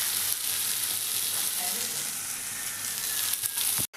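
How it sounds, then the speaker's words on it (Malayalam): Sliced onions sauté in oil with turmeric and chili powder for a curry, a steady bright hiss of frying that runs unbroken and fairly close, with a faint stir or two and no speech. "ഉള്ളി വാട്ടിക്കൊണ്ടിരിക്കുകയാണ്"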